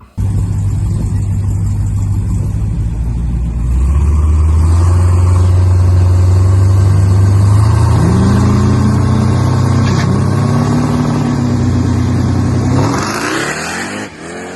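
A 1300whp Jeep Trackhawk street racing at the Texas 2K roars loudly up close. The engine revs climb in rising sweeps through successive gear changes, then the roar cuts off abruptly near the end.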